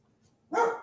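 A single loud dog bark close by, following a quiet stretch, then trailing off.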